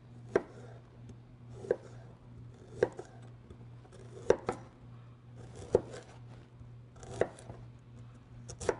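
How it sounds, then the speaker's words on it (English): Knife strokes mincing ginger with a large chef's knife on a cutting board, a slow series of sharp taps spaced about a second apart over a faint low hum, close and quiet. "slice that into thin strips with a large chef's knife"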